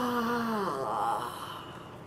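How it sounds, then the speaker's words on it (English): A single drawn-out human yawn, made as a vocal warm-up exercise before performing. The pitch glides downward and then trails off into breathy exhalation, close and fairly soft. "So just practice doing yawns whenever you can"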